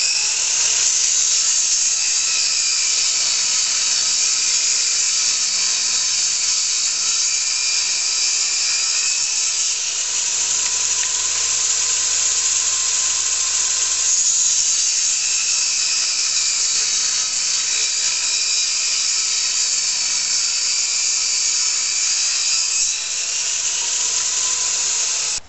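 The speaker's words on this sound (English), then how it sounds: "we just need to make 2 passes with the table saw" A steady, high-pitched whine of a table saw cutting wood runs continuously, with slight dips and swells as the blade works through the board.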